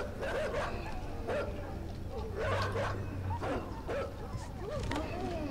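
Dogs in the game Inside bark in repeated short bursts, several sharp woofs and yips spaced about a second apart, fairly close and loud over a low background.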